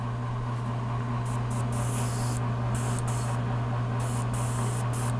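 Badger Sotar 2020 airbrush spraying paint at about 25 PSI onto a bust, a steady hiss over a constant low hum from the compressor, with brief bursts of brighter spray.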